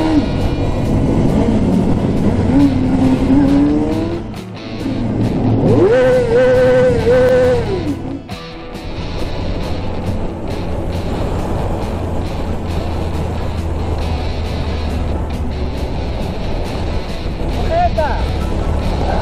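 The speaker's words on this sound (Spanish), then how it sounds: "Una Honda 750. La mejor moto del mundo." A Honda CB 750 motorcycle engine runs steadily under heavy wind rush, with a brief rising rev in the middle. Voices talk over it at times.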